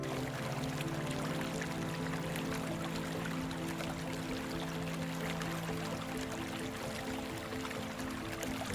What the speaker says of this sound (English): give way to the sound of a waterfall dropping into the canyon near the entrance